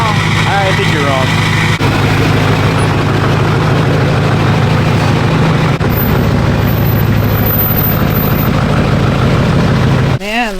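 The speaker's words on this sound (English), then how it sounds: "The Powerstroke is not going to start." A Ford Power Stroke diesel truck engine runs at a steady, low, rumbling idle throughout, close by, with a brief rev or chirp near the end and people talking over it.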